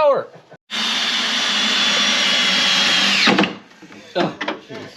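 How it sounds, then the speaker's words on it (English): Power drill boring holes in hard material on a Chevelle car build, one loud sustained whine lasting several seconds, then stopping, followed by scattered short clatters and handling noises. "These are hard to drill."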